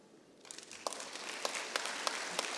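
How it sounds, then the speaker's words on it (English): An audience at a literary festival closing ceremony in Islamabad breaks into applause, starting softly and quickly building into steady, moderately distant clapping with sharp individual claps standing out. "Look at the applause of the audience here."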